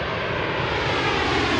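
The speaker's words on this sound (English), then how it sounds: "I can hear that jet blast going out above me" A jet airliner roars overhead at Washington's DCA airport near Gravelly Point, a loud, broad, sustained rumble and whoosh filling the short moment alone.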